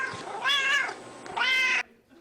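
Cats at a cat cafe meow twice, two clear, loud, drawn-out calls close by, separated by a short pause, with no talk.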